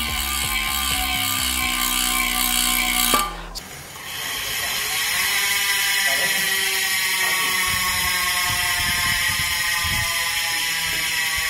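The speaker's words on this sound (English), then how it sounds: "So that is a 36 tooth DT Swiss style star ratchet in there. Sounds angry." After a short electronic tone, a 36-tooth DT Swiss-style star ratchet in a bicycle freehub buzzes in a rapid, sharp, continuous clicking, loud and close as the wheel spins freely.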